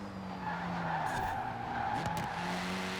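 Tires squeal steadily as a car's back end slides out through a corner in Forza Horizon 4, the skid continuous over a steady engine drone.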